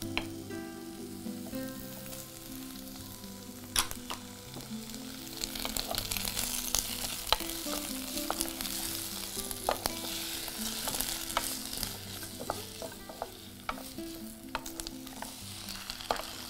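Pirandai, or veld grape, sautéing in a pan, a steady close sizzle broken by frequent sharp taps and scrapes of stirring.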